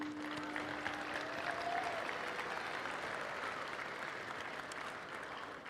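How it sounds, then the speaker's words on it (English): Sustained applause from a large crowd at a state robotics championship, an even, dense clapping that stays steady throughout with a faint tone at the start. "let's give another round of applause to Center Grove to thank them for their support this weekend"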